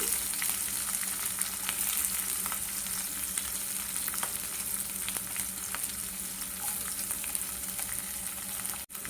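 Chopped onions, green chillies and curry leaves sizzle in hot oil as a tempering for a fenugreek leaf curry, a steady close-up crackle with faint stirring clicks and no talking.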